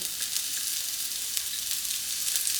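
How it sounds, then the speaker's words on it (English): Avocado oil sizzles and crackles in a frying pan with a steady, bright hiss that stays at an even, moderate level close by, and no speech. "Put a little bit more oil in our pan."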